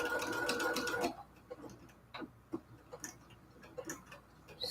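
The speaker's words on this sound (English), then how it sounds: "So now we're sewing on the little windows" A sewing machine with a walking foot whirs briefly at the start while stitching a cathedral window quilt pillowcase, then falls quiet apart from soft ticking clicks and fabric handling nearby.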